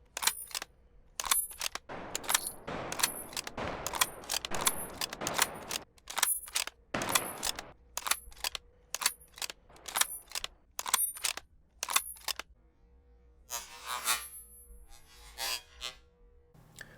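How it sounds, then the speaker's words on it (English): Bolt-action rifle in the Beyond The Wire game, firing and cycling with repeated sharp gunshot cracks followed by small metallic pings of ejected shell casings, a rapid irregular series up close with no talk. "Like when you bolt the gun, it like the shell casing flying out makes a little ping, and it's really satisfying."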